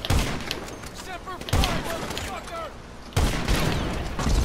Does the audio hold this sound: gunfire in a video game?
yes